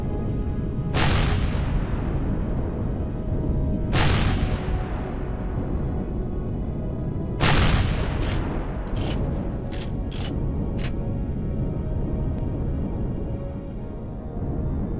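Rocket launchers firing in the space survival game Empyrion Galactic Survival: three heavy booming launches spaced a few seconds apart, then a rapid volley of sharper bursts, all over a constant loud rumbling background.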